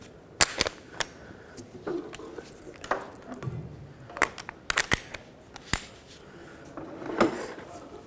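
Sharp, scattered bursts from an air impact gun tightening a lug nut to pull a wheel stud through on a 2003-2021 Chevrolet Express 3500 van hub: several short hammering rattles and clicks, close and irregular, with no talking.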